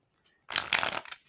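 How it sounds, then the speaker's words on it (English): A deck of oracle cards gets one brief, soft riffle shuffle close up, lasting under a second in an otherwise quiet room. "even though we didn't get to finish shuffling"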